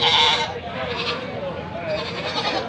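Several goats bleat at a market during stormy weather, a steady chorus of nearby calls filling the short stretch with a louder cry at the start.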